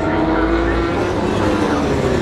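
A race car at the 24 Hours of Le Mans, heard close and loud as a steady engine roar that runs the whole time, with a low rumble at the start and a voice faintly underneath.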